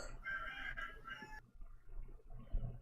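A chicken clucking sound effect played during a tabletop Dungeons & Dragons session: a short, faint burst of clucking, then quiet room noise.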